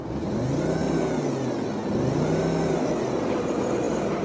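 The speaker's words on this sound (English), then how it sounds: "He's trying to get the vehicle restarted in the grass." A stuck car's engine revs hard as the driver tries to get moving in roadside grass, a loud sustained roar rising and falling in pitch in two long surges, heard close.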